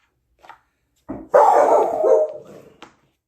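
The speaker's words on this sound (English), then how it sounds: "That's why the dog barked" A dog barks loudly and close by indoors as a neighbor arrives, with a short sharp bark followed by a longer sustained burst of barking, then a brief final yip.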